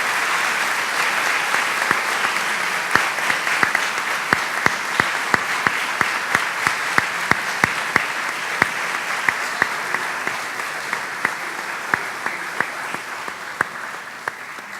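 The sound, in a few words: audience applause for two speakers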